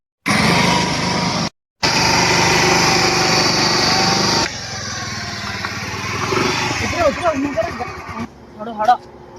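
A nearby Activa scooter engine runs with a loud, steady high-pitched buzz, then cuts out briefly and drops to a softer idle as voices talk over it.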